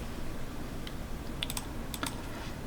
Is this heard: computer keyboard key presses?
yes